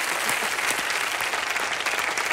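A television comedy studio audience breaks into loud, full applause, a thick continuous burst of clapping close and bright throughout, with no talk on top.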